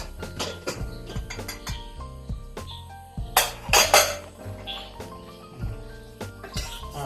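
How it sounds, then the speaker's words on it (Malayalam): A pressure cooker lid is worked open after cooking bitter gourd with a series of sharp metallic clanks and clinks. One louder clatter comes midway. "അപ്പോൾ നമ്മുടെ കുക്കറിൻ്റെ ആവിയെല്ലാം പോയിട്ടുണ്ട് നമുക്കിത് തുറന്നു നോക്കാം"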